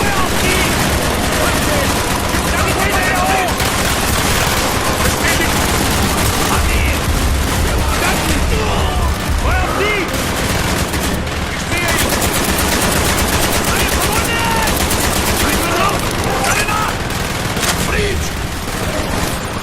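Dense, loud gunfire from Call of Duty Black Ops fills the scene: sustained machine-gun bursts and overlapping shots with booming impacts, a chaotic battle din running throughout with voices shouting underneath.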